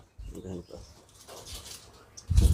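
A 22-year-old pigeon gives a few soft, low coos and rustles close by, with people talking over it and a louder thump of movement at the end.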